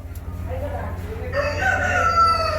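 A Shamo Aseel rooster of a Japanese line crows once, a fairly near, drawn-out call rising partway through over steady low background hum.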